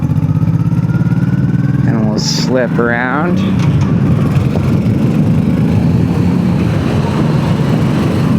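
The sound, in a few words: Honda Shadow 1100 motorcycle engine accelerating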